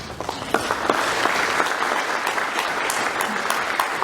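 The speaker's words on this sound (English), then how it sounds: "you need to give yourself an applause right now" A crowd at a WWII veterans' medal ceremony in Sacramento claps steadily and continuously, dense applause with scattered sharper claps, fairly close and sustained.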